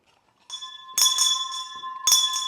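Bells ring clearly in a quiet room, a sustained chime followed by two bright, ringing strikes about a second apart that linger after each hit.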